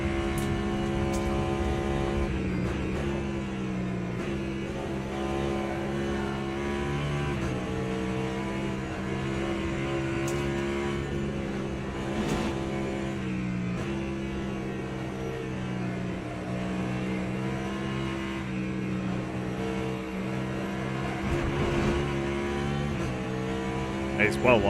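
A BMW race car on track in Le Mans Ultimate, with a steady loud engine drone and a harmonic whine that rises and falls through gear changes, while a commentator talks over it.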